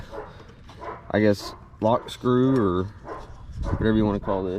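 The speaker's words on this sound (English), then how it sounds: "Sorry about the dogs in the background, never shut up." Several dogs bark and yip repeatedly in loud bursts close by, while someone speaks over them.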